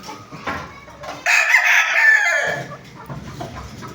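A Perfection Roundhead gamefowl rooster gives one loud, close crow lasting about a second, set among faint scattered farmyard noises.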